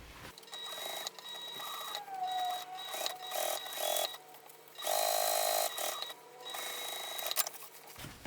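Sewing machine top stitching along a tote bag lining, a continuous close whir with slight changes in speed over several seconds, steady and fairly quiet, without voices.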